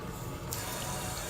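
A hotel bathroom faucet at a Comfort Inn in Hikone, Japan, runs hot water in a soft, steady stream, faint and unbroken, with no voices.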